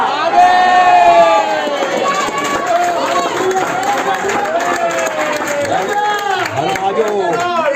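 A church congregation in Meerut claps and cheers loudly during worship, with crowd voices and shouts throughout and a loud burst at the start.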